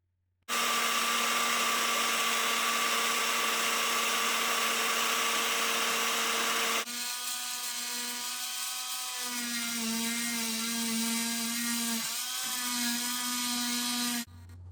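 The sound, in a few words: rotary tool burnishing model train motor contacts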